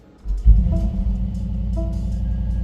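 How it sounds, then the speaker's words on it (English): A Mercedes-Benz Brabus G63 engine cranks and fires up with a sudden deep thump, then settles into a steady low rumbling idle, close and loud. "So if I start the car"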